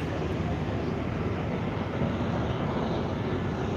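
A jet trainer warbird built in the Eastern Bloc flies at the Illawarra air show, giving a steady loud roar of engine and rushing air that stays constant throughout.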